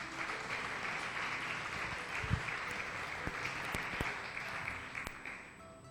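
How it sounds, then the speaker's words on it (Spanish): A church congregation clapping, a continuous moderate wash of many hands heard from a distance at low level, with a few sharper individual claps standing out. "Démosle un aplauso entonces al Eterno"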